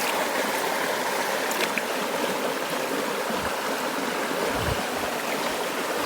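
A river stream in the Konkan countryside flows steadily among stones, a close, continuous rushing and gurgling wash of water with no voices over it.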